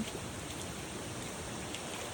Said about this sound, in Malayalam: ഇപ്പം എന്തേ മഴ ചാറുന്നുണ്ടേ